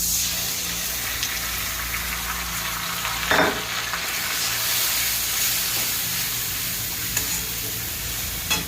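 Chopped onion fries in oil with ginger-cumin paste, a strong continuous sizzle broken by a few scraping stirs of the spoon.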